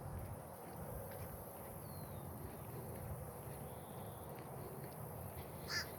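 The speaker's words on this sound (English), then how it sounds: "We have a noisy crow ahead of us watching my view." A crow caws in the distance over a steady outdoor hiss, with a brief sharper call near the end.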